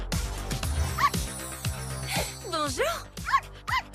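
Small cartoon dog giving a series of yips and short barks in a Barbie dance show, mixed with a brief spoken greeting and other cartoon sound effects.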